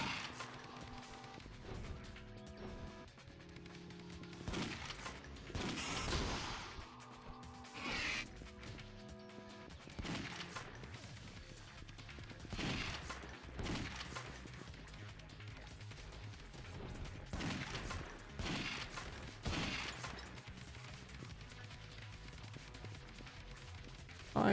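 Rifle fire in the zombie action game Yakuza Dead Souls, with repeated sharp shots cracking at an uneven pace over a steady bed of game noise and tones, moderately quiet throughout.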